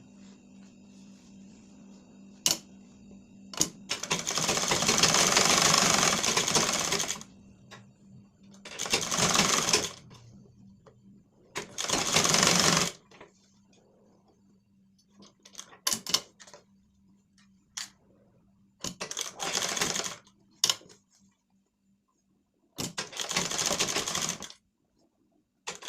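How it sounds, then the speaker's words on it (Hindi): A sewing machine stitches the neckline of a lined blouse in repeated bursts, one long run and several shorter ones, with soft clicks and quiet pauses between them, close and moderately loud. "पहले हम गला की सिलाई करेंगे"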